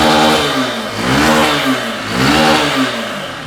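A Honda Bros 150 motorcycle engine revs up and falls back in two or three rising and falling surges, heard close and loud with a rough, mechanical clatter beneath it.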